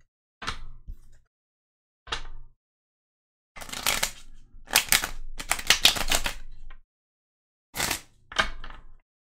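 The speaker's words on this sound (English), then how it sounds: "And we're going to shuffle the second deck." A deck of oracle cards shuffled by hand at close range in a quiet room, coming in several separate bursts of riffling and sliding with brief pauses between, some short and one long continuous stretch, with no talking.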